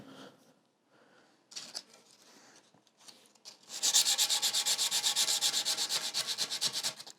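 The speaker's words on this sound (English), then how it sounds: "Sanding is never the most glamorous part of the job" Sandpaper rubs against a wooden guitar neck for a semi-hollow guitar, starting with a few short, quiet scrapes and then settling into fast, steady back-and-forth strokes that are close and fairly loud.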